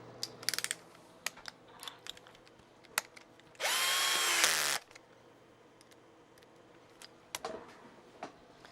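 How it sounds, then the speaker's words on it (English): A power drill fitted with a drill extension, used while repairing vintage consoles and computers, whirs in one loud burst of about a second amid scattered small clicks and taps. "We're gonna use my drill for this."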